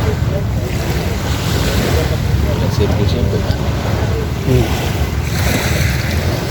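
Sea waves wash continuously along the seashore under heavy wind buffeting the microphone, a constant rumbling surf while people talk nearby.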